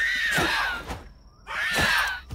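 An enemy creature in the Dysmantle video game lets out two long, shrill screams, each close to a second, with a brief quieter gap between them.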